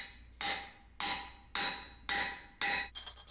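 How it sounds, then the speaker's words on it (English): A hammer drives a square drift punch into a round hole in an iron wagon axle plate, five loud ringing metallic blows at a steady rhythm of roughly one every half second, with a clattering tail after the last. "we're going to take a square drift punch and we're going to square up the hole"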